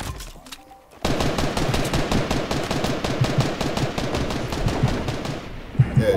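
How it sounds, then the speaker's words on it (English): Rapid automatic gunfire in Fortnite starts after a short quiet pause and runs as a dense, even stream of close shots for several seconds, with a few louder bursts near the end. "I'll be shooting him"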